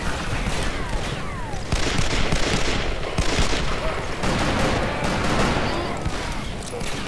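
Sustained gunfire in the Western shooter Call of Juarez: Bound in Blood, a dense, loud fusillade of rapid rifle and pistol shots that keeps going throughout, with game voices shouting over it.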